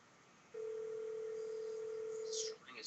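A single steady telephone dialing tone sounds for about two seconds while calling a cell phone, clear and close against a quiet background, with a brief faint voice near the end.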